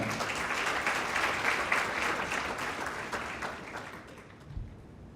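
An audience applauds steadily to welcome the Director General of GESCI on stage at the African Digital Schools Initiative launch in Côte d'Ivoire, dense clapping that stays fairly loud, then eases slightly near the end.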